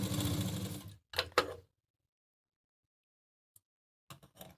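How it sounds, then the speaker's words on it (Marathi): Sewing machine stitching a double-folded facing strip on a blouse panel, a loud close run of about a second followed by two short bursts, then silence with faint trailing clicks and a few brief stitches at the end. "अशी डबल फोल्ड मारून ही आयपट्टी त्याच्यावर ही एक शिलाई"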